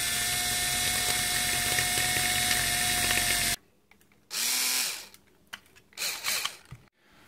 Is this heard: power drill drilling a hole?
yes